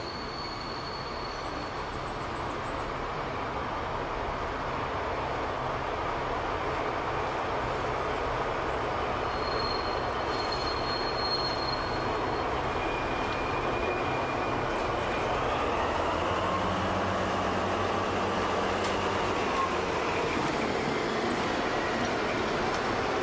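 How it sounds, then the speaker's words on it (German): A 1970s-style East German passenger train hauled by a V180 diesel-hydraulic locomotive rolls into a station in the Erzgebirge, a steady wide rumble with faint squeals and a low engine drone rising near the end. "Einfahrt in den Bahnhof Bolkenstein."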